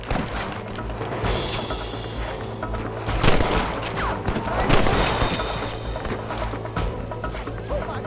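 Gunfire in Red Dead Redemption, a loud rapid burst of repeated gunshots cracking over a busy battle din, with shouting voices mixed in.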